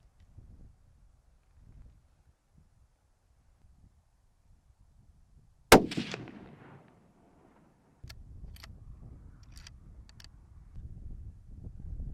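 A Browning X-Bolt rifle fires a single sharp, loud shot at an outdoor range after a quiet stretch; the report decays quickly, and steady wind-like rumble follows.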